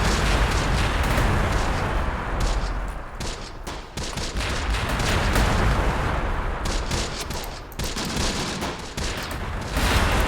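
A mortar strike in the Close Combat war game lands amid dense, continuous battlefield gunfire, with sharp cracks and heavy thuds piling on top of one another over a loud, steady roar.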